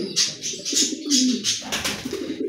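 Baghdadi Homa and Beauty Homa pigeons, a large pair, cooing in repeated soft throaty phrases close by, a steady rhythmic series of coos with no talking.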